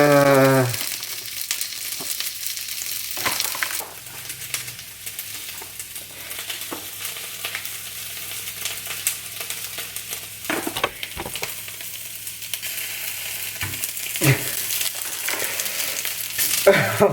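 Vegan fake meat breaking up in a frying pan, a steady close sizzle and frying hiss with repeated scraping and stirring clatters from the utensil.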